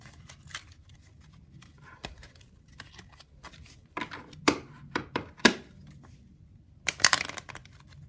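Quiet riffling bridge shuffles of playing cards come in short bursts, a few soft flutters and snaps spread across a near-silent background.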